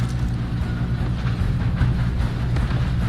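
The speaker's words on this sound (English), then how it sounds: "We have to stop this train." A moving train in Red Dead Redemption 2 rumbles along with a steady low roar and faint rhythmic clatter, loud and close, no voices.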